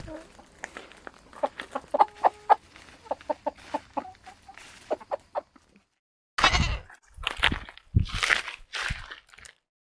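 Backyard chickens in a self-sufficiency garden give short, scattered clucks close by, followed by louder, busier clucking and squawking, with goats kept nearby.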